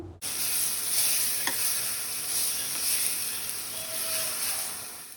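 Chopped onions and cabbage fry in a pan with a steady, even sizzle and hiss throughout, close and fairly loud, with no talking.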